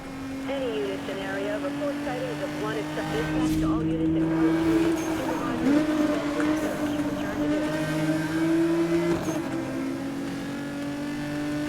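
A car engine drones loudly at high revs in the racing game Need for Speed: Most Wanted (2012), its pitch sliding up and down as the car speeds along, with a voice talking over it.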